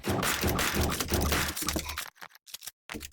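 Dense, chaotic bursts of gunfire-like cracks and thuds from a shooter game, thinning into sparse sharp hits with brief silences between.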